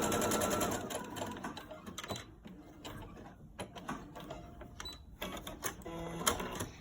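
A sewing machine stitches across the top of a pleated fabric filter-pocket mask to hold a pipe cleaner in place, giving short, uneven bursts of clicking mechanical whir with brief pauses between runs.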